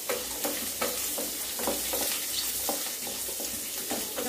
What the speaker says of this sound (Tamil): எண்ணெயிலே நல்லா வதங்கிடணும்.